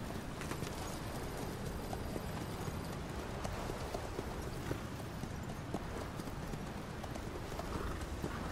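Continuous hoofbeats from a horse ridden in Metal Gear Solid V, a quick and steady galloping patter that lasts several seconds, set against constant low rumbling noise with no voices.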